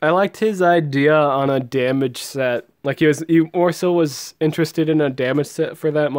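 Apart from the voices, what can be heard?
No everyday noise stands out behind the speech.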